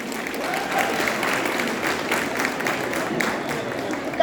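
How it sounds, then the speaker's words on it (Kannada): Audience applause at a school annual day event, dense continuous clapping sustained at steady loudness throughout, with no speech over it. "ಚಪ್ಪಾಳೆ."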